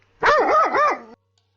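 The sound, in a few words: guard dog barking, board game app sound effect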